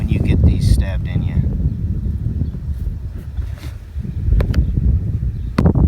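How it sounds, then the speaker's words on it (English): Gusty wind buffets a microphone outdoors on an open prairie, a steady low rumble with louder bursts near the start and end, mixed with faint rustling. "I'm gonna try to block the wind for you, but it's really hard to do out here"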